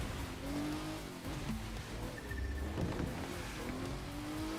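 A car engine in the video game Forza Motorsport hums under a dense, rushing road and wind noise, with faint tonal engine lines rising and falling, moderately loud and continuous.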